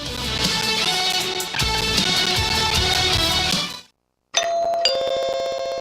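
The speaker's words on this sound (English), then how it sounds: "Ah, the sound of my doorbell." Music plays, then drops to a brief silence before a clear two-tone doorbell chime rings out and lingers, with a second chime following close behind.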